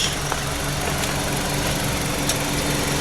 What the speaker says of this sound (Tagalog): yan yung makina ng Dodge.